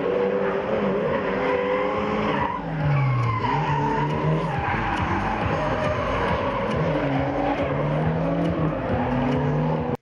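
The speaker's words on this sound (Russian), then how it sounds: "Тюнингованные автомобили, визг покрышек и запах жженной резины." Tuned drift cars skidding at a drift event, with loud continuous squealing tires and roaring engines that rise and fall in pitch as the cars slide, heard from close by with no voices.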